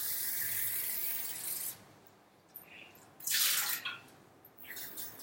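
Water pours briefly into a bread maker insert, a bright splashing stream that stops, then short trickles and clinks follow in a quiet kitchen.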